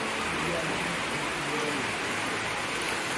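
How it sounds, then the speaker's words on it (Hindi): Heavy monsoon-season rain pouring down at a morning wedding gathering in Kangra, Himachal Pradesh, a dense, steady roar of rainfall hitting surfaces with no break. "तो अभी सुबह के 9 बज गए हैं और बारिश बहुत तेज हो रही है तब से।"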